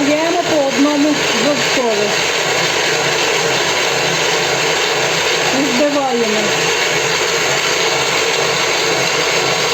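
Electric mixer whipping batter for a traditional Ukrainian wedding cake, a continuous loud motor whine held for nearly ten seconds, close up, with a voice speaking over it.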